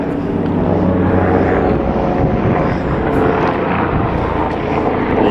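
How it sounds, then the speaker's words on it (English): An airplane passes overhead with a loud, steady broadband roar that stays constant throughout, with no talking. "Now there's a plane."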